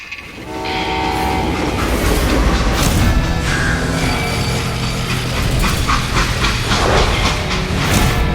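A loud steam train rumbles close by in the video game Call of Juarez: Gunslinger, its wheels clacking rhythmically while a whistle sounds and steam hisses over the heavy mechanical roar.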